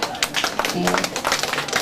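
An audience at a multicultural family festival applauds elementary school award winners, a dense, steady crackle of many hands with a voice speaking over it.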